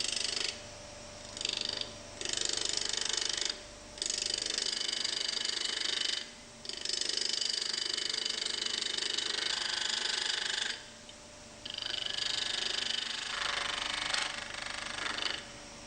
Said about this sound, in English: Switch the lathe on and turn the other V shape at the third mark.